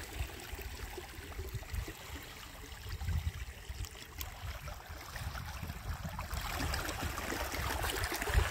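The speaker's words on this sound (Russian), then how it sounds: "Это прилив идет такой, заходит, поэтому море волнуется." Choppy Arctic Ocean water on the Norwegian coast as the tide comes in, with a steady wash of waves and splashing surf close by. The sound rises slightly toward the end, and no one speaks.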